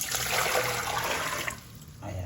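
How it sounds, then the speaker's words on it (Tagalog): Water poured from close by into a cooking pot holding ground pork for pancit molo, a full rushing splash that fades to a lighter trickle and then a brief renewed pour. "Naglagay po tayo ng tubig."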